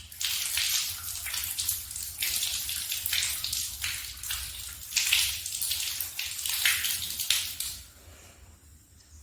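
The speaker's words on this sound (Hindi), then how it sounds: "जैसे मैं धो रहा हूँ, दोनों हाथों को अच्छी तरीके से धो लें।" Hands being washed under a running tap for wudu ablution, a steady splashing water stream that lasts throughout, moderately loud and close with uneven surges as the hands move through it, no voices.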